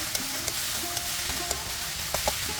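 Jackfruit pieces sautéing in oil in a pan for pickle, a constant soft sizzle with a few sharp clicks of a spoon stirring against the pan.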